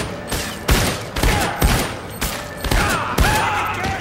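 Bursts of gunfire from the video game SiN Episodes: Emergence, a rapid run of loud, sharp shots in uneven clusters with short gaps, close and dry, with no talking over them.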